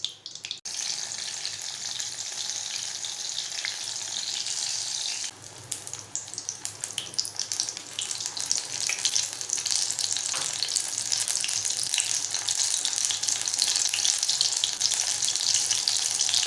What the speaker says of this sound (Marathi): या प्रकारे आपण सर्व मशरूमची भजी तळून घेऊया।